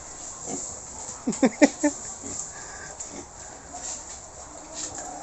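Pigs on a farm give a quick run of four or five short grunts near the middle, with softer snorts scattered around them, heard nearby over a steady background hiss.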